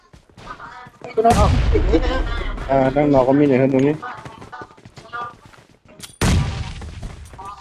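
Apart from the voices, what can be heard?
bombardment explosions in the PUBG video game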